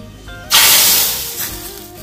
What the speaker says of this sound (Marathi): लगेचच ही फोडणी सांबारात घाला